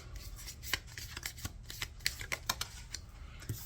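Quiet, close riffling of tarot cards being shuffled, a series of crisp flicks and taps in quick irregular bursts, with no one speaking.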